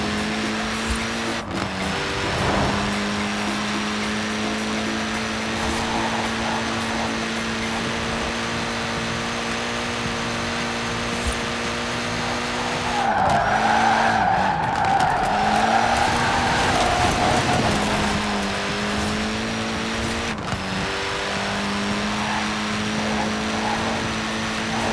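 Mini Cooper S engine droning steadily under hard driving in Forza Horizon 4, with a rougher burst of tire skidding partway through, loud and continuous throughout.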